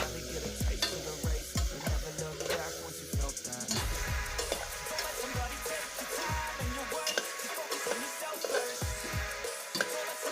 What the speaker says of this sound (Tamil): இப்போ நல்லா இந்த பொடிகளோட இந்த காய்கறிகளை நல்லா மிக்ஸ் பண்ணிக்கலாம்